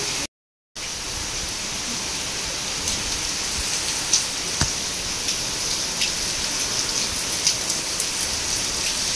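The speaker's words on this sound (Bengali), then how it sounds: "বৃষ্টির সাথে সাথে আমার হাওয়াও দিচ্ছে মারাত্মক" Heavy rain with strong wind pours down by a balcony in a steady, dense roar, with occasional faint ticks and drips standing out. A brief dropout comes at the very start, and no one speaks.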